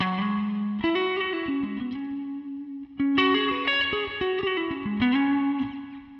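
Distorted electric guitar through a budget guitar pedal's reverb, phrases played continuously, drenched in reverb that smears the notes together.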